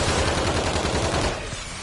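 Dense, rapid gunfire from a Call of Duty zombies match fills the mix, with overlapping automatic bursts and shots firing loud and continuous before easing slightly near the end.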